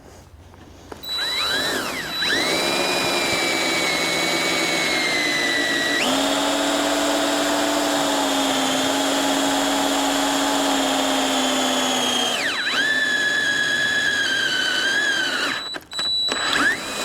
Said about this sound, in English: drill the next one